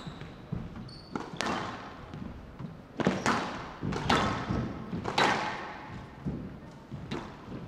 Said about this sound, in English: Wow, what a shot from Raneem Welily, playing that long drop shot from the back of the court on the forehand